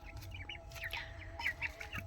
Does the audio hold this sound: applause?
no